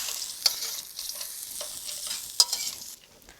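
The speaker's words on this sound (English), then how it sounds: "we need to add our peanut in. And keep stirring it until it's mixed together." Peanuts stirred in a hot frying pan for a spicy Khmer tofu dish, a light hiss of frying broken by a few crisp spatula clicks, with the sound dropping away near the end.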